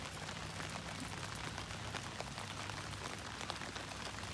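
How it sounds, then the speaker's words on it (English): Rain drumming steadily on a one-person backpacking tent during a long storm, a dense, continuous patter close overhead with no talk. "it's been about 24 hours of rain"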